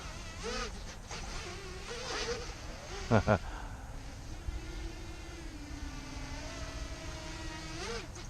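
A small racing drone whines through the air, its buzzing motors rising and falling in pitch as it flips and maneuvers, with a couple of sharp knocks midway.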